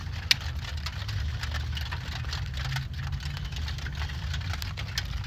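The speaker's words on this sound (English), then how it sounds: "And it's raining out here." Steady rain patters and hisses outdoors beside an offset charcoal smoker grill, with a low engine-like rumble running underneath throughout.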